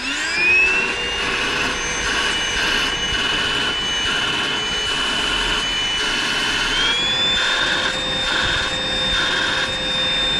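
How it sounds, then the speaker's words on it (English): A Silver Crest vacuum cleaner runs continuously at close range, its steady high motor whine rising a step in pitch and loudness partway through, with no talking. "I just want to test the suction"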